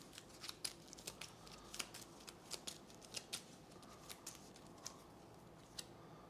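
A board game deck being shuffled, soft quiet riffling and snapping of cards in a series of short crisp bursts spaced irregularly, close by with no voices.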